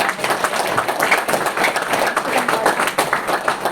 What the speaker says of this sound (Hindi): आपके लिए तालियां तो बजनी चाहिए